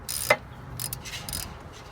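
A socket wrench ratcheting on a brake bolt of a 2015 Honda CR-V during a rear brake pad change: a few quick, close clicking bursts with short gaps, light and mechanical.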